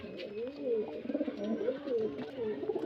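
Pigeons cooing nearby, repeated soft warbling coos in overlapping phrases, close and clear, with some low background noise.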